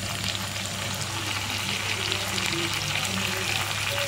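Chicken pieces frying in a pan with already-fried potatoes give off a steady, close sizzle with soft stirring scrapes, backed by a low continuous hum from the kitchen and no talking.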